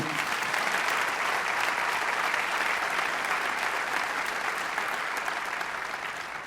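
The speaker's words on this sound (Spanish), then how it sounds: "Así que le damos un aplauso al Señor." A church congregation breaks into sustained applause, a thick, even wash of many hands clapping together that holds steady and tapers a little at the close.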